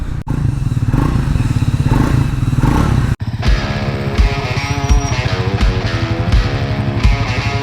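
A Triumph Speed 400 motorcycle with a 400 cc engine runs loud and close at a steady, throbbing idle, with one brief clunk partway through and no talk over it.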